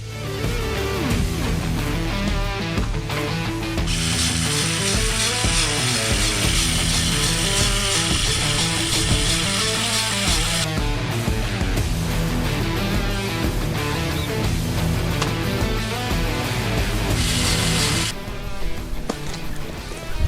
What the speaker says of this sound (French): Allez, c'est parti pour faire le tour de graissage. J'ai la pompe à graisse.